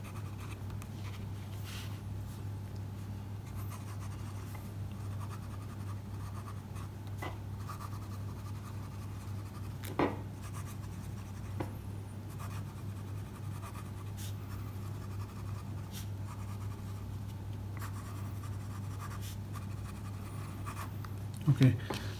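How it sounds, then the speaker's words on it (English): A vintage Camlin 47 fountain pen with a fine steel nib and black ink writes on paper, giving a soft, steady scratchy scrape for a long stretch, with a few louder strokes and a voice faintly in the background. "this nib is not very smooth. It's a fine nib, so it gives some feedback, but it is not that scratchy."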